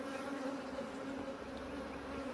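Honeybees hum steadily in an open hive during queen supersedure, a dense, continuous close-up buzz with no pauses.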